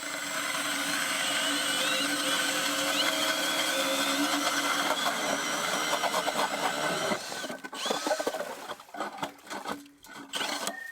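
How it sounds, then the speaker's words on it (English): An ice auger powered by a brushless Milwaukee drill bores through lake ice while ice fishing in northern Michigan, giving a steady high whine for about seven seconds before it cuts out and leaves scattered knocks and clatter. "They're basically a hand drill that can be adapted to a brushless Milwaukee drill."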